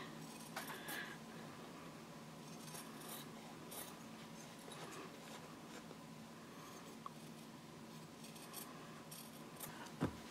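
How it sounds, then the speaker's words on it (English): Scissors trimming excess fabric lining from a sewn key fob card pouch, faint close-up snips and soft fabric rustles scattered across a quiet stretch with no talking. "the first thing I'm going to do is just trim away that excess lining"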